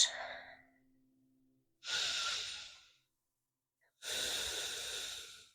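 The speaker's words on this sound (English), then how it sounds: "take a couple of breaths" Slow, deep breaths close to the ear during a yoga downward-facing dog pose, three long airy exhalations and inhalations separated by brief silences.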